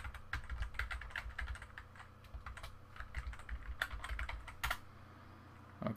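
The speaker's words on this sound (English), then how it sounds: "I just type in my email address" Rapid, close keystrokes on a Mac computer keyboard as an email address is typed, a steady run of clicky taps with a few brief pauses and a louder cluster near the end, no voices.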